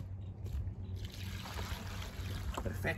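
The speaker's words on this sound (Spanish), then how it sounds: "Ahora vamos a añadirle agua." Water trickles and splashes steadily into a quick-setting concrete mix for a concrete stool, a continuous close-up pouring sound over a low background rumble, outdoors in fair weather.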